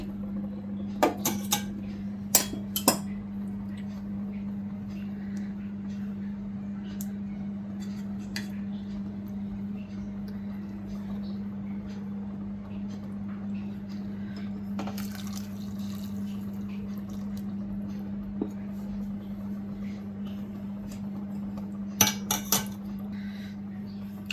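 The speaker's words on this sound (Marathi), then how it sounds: "मिक्सरचं भांडं मी इथे धुवून घेते, त्यामध्ये पाणी घालते।" A mixer jar being rinsed and filled with water in a home kitchen, with a few sharp clinks against the jar over a steady low electrical hum and no talking.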